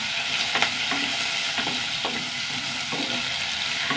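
Okra sautéing in a pan as the first step of a mixed-vegetable dish, a steady sizzle with repeated scraping stirs at irregular intervals, close and continuous with no talk.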